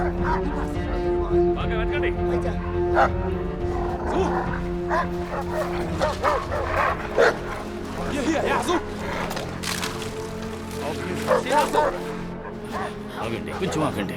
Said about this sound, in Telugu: ఇక్కడ డాగ్స్ చాలా ఉన్నాయి.